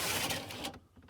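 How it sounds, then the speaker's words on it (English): Gas struts on a 2002 Autosleeper Symbol Peugeot Boxer diesel motorhome, giving a close mechanical click and clunk followed by a brief quieter pause. "Nice working gas struts, click clunk"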